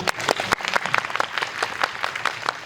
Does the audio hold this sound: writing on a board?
no